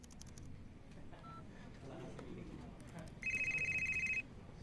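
A telephone rings with one sustained electronic tone burst lasting about a second near the end, after a stretch of low murmuring voices and room noise.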